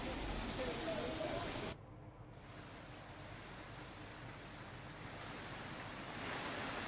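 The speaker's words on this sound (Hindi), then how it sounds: "तो सड़क पर किस तरह से पानी बह रहा है आप देख सकते हैं।" Rainwater rushes over a road beside a highway in Uttarakhand during heavy rain, giving a steady broadband wash; it drops briefly in level partway through, then continues evenly.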